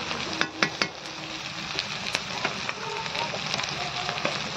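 Onion and green chillies fry in oil in a wok, giving a steady close sizzle with frequent crackles and pops and a few spoon scrapes near the start, no voices.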